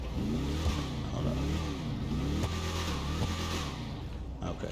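A GTA 5 add-on car using the Hellfire engine audio revs steadily, with a continuous mid-pitched engine drone rising and falling in repeated surges, heard alone and fairly close.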